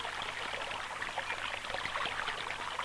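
A stream flowing past rocks on both sides, a steady, fairly close rush and trickle of water that stays even throughout, with no voices.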